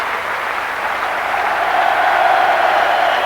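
A football stadium crowd at a 1996/97 West Bromwich Albion match gives warm applause as a substituted player leaves the pitch, a broad, distant roar of clapping that swells slightly and holds steady.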